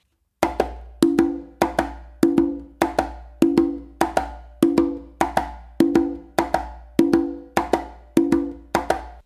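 Congas playing a steady conga de comparsa groove, a continuous run of crisp slaps and resonant open tones in a repeating march-like cycle, loud and close with no voices.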